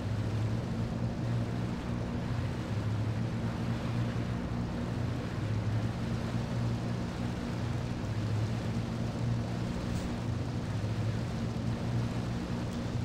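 A steady boat engine drone in Grand Theft Auto 3 hums under a constant wash of water and wind noise, unbroken throughout.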